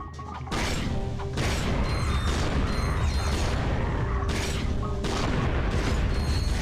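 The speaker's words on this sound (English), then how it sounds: "all these explosions shaking the screen" Dense, repeated booming explosions and crashing impacts in the video game Ratchet & Clank: Going Commando pile on top of each other, loud and continuous with sharp bursts throughout.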